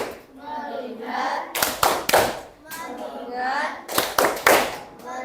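A class of children in a classroom performing a rhythmic focus clap, chanting a pattern together then bursting into sharp, group hand claps in two repeated rounds, with a teacher leading the call.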